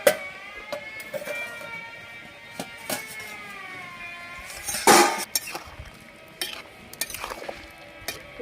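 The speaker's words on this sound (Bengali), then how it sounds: "একটু ঢাকাটা খুলে দেখে নিই।" A lid comes off a cooking pot of boiling young jackfruit with one sharp metallic clatter midway. Softer clinks and knocks of cookware come before and after it, close and fairly quiet.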